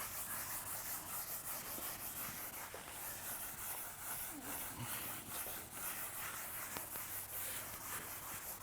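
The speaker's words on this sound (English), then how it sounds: "let me erase what is filling up the blackboard" Chalk being erased from a lecture-hall blackboard, a continuous scratchy rubbing hiss with rhythmic back-and-forth strokes, close and steady, with no speech.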